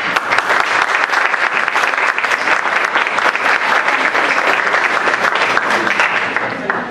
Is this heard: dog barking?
no